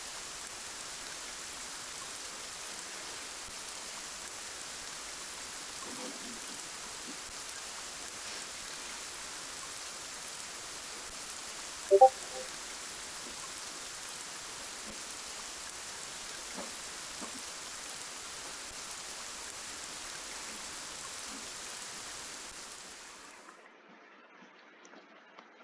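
Heavy rain pours steadily as a broad, even hiss, close and continuous, with a few faint thumps in the middle, then drops away quickly near the end.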